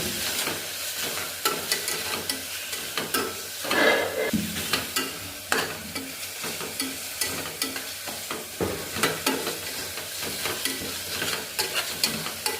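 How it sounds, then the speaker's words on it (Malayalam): Tomatoes sauté in masala in a pan for a fish curry, with a continuous sizzle and repeated scraping stirs of a spoon close by and no talking. "തക്കാളി ഇങ്ങനെ വാട്ടാം."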